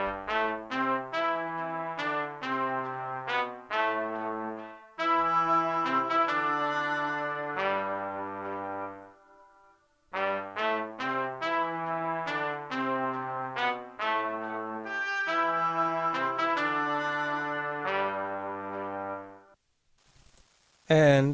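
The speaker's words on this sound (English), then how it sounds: "And together these brass instruments sound like this." Sampled trumpets, tenor trombone and oboe play together in a layered brass-and-reed passage, sustained chords moving in two long phrases with a short pause between, fairly loud and alone.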